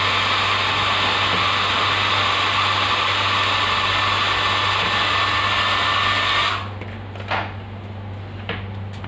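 A dryer blowing on a freshly printed watch dial, a loud steady rushing airflow that cuts off abruptly partway through, leaving a few faint handling clicks and knocks.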